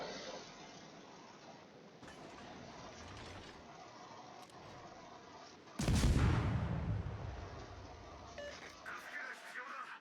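Ship guns fire in a naval battle video game: a sudden loud, heavy blast booms up close and rumbles away over several seconds, following a steady bed of engine and ambient noise, with faint sharper reports later.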